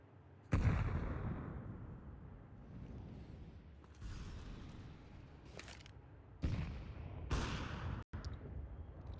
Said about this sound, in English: Lots of nades exchanged early towards A.